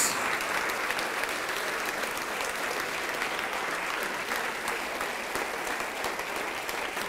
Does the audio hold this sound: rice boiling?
no